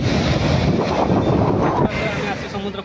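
Sea waves washing in at a shore under heavy wind buffeting the microphone, a dense continuous roar that dips briefly near the end.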